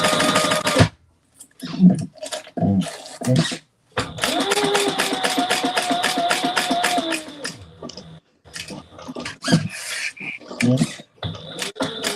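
A sewing machine top stitching an eighth of an inch from the edge whirs in several bursts of varying length, with pauses between runs and a voice talking in the gaps.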